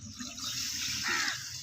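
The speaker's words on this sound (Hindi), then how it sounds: "पानी ऐड करेंगे" Water is added to desi ghee halwa cooking in a pot, giving a short, steady pouring splash with a brief gurgle; no one speaks.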